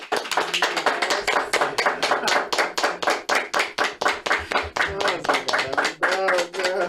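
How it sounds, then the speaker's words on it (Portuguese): A small group claps for someone's story in rhythmic, distinct, fairly close claps, each sharp hit spaced evenly across the whole stretch, with faint voices mixed in. "vamos bater uma salva de palmas que tua história merece"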